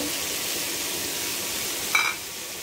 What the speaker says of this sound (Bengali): এখন আমি নেড়ে দেবো সবসময়।